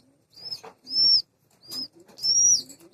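Close flapping of a Giribaz pigeon's wings in two or three short bursts, each with a bright whistling tone, with soft low cooing between them.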